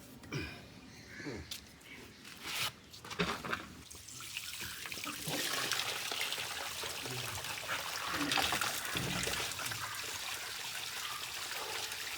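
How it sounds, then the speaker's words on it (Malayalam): Water is poured to fill a container set down in mud, starting after a few seconds of clatter and then building into a steady, close trickling pour that runs to the end. "ഇനി നമുക്ക് വെള്ളം നിറയ്ക്കാം"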